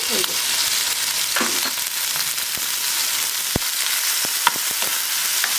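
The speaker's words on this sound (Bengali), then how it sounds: "আমি চামচ দিয়েই নেড়ে নিচ্ছি" Spiced curry frying in a pan, stirred with a spoon: a steady close sizzle with scraping spoon strokes and a few sharp clinks against the pan, no talk.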